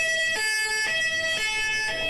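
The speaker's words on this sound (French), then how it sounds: "Une ambulance qui fonce aux urgences, puis d'autres qui suivent, toutes sirènes hurlantes." An ambulance siren wails as it races toward a hospital emergency entrance, its two-tone pattern switching about once a second, steady and moderately distant, with no voices.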